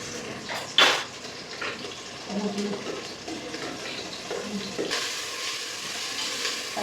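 Ginger garlic paste fries in a pan for coconut rice, with a steady sizzle and stirring scrapes running throughout and a brief louder clatter near the start.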